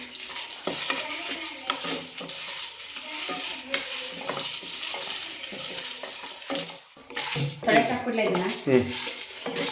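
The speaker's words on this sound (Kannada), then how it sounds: "ಕರಿಬೇವಿನ ಸೊಪ್ಪು ಬಿಟ್ಟು ಕೆಳಗೆ ಇದೆಲ್ಲ ಸೇರಿ ಉರಿಬೇಕಂತೆ" Curry leaves and other ingredients frying together in a home kitchen pan, giving steady sizzling with scraping stirs and clinks of a utensil against the pan.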